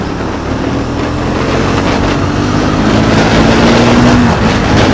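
A Triumph Speed 400 motorcycle cruises in fifth gear, a loud, continuous engine drone under heavy wind rush with a faint rising whine, recorded close on the ride.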